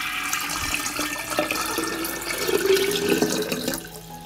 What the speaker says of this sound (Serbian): U bokal ću sipati litar mlake vode.